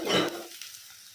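Tomato pieces fry in a pan with a short burst of loud sizzling and a stirring scrape, then the sound quickly fades to a low, faint crackle.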